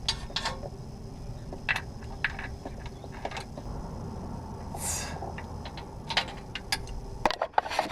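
Metallic clinks, ratchet clicks and tool taps while bolts are tightened on a Flo Pro 5-inch exhaust with muffler on a 2016 Duramax truck, scattered sharp hits over a quiet background hum, close up.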